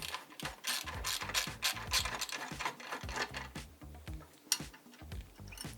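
Screws being removed from the hard drive of a 386 computer: a close, steady run of quick ratcheting clicks from a screwdriver, repeating in short bursts with no voices.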